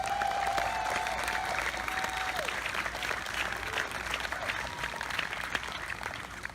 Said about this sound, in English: Let's have a big round of applause for the City of Cocoa.